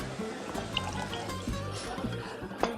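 Wine pours from a bottle in a kitchen while pasta is being made, a light trickling splash with faint clinks, soft and close, with quiet voices in the background.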